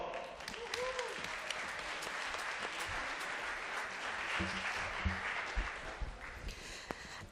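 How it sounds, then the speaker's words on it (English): An audience applauds steadily at a startup event as costumed knights are welcomed, a dense wash of many hands clapping continuously, with some voices mixed into the crowd. "Applause."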